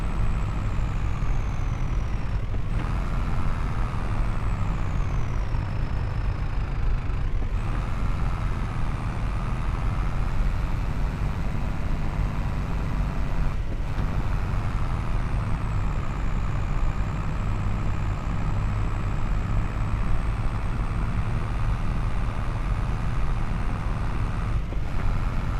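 Tractor engine in Farming Simulator 22 laboring uphill, a loud, continuous diesel drone with a rising and falling whine. Brief dips mark gear changes.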